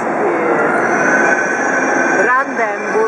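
Train rumbling steadily as it rolls in, with a loud continuous roar, faint high squeal and a brief voice near the end.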